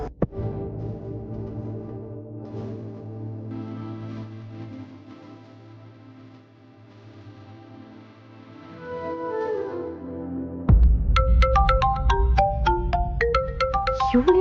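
A phone's ringtone for an incoming call chimes in a bright, repeating melody that starts abruptly near the end, after a stretch of soft sustained music.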